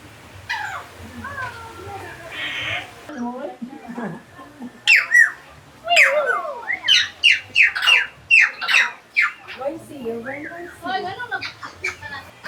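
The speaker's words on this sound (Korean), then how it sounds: "앵무새가? 앵무새가 있나 봐." A parrot squawks and whistles repeatedly in an outdoor park in Sikatuna, Bohol, a run of sharp, close, shrill calls with quieter chirps around them, while people talk nearby.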